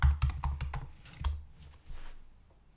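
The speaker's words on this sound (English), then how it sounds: "And then in the search field," Keys clatter on a computer keyboard as a plugin name is typed into a search field, a close burst of quick clicks followed by a few sparser taps.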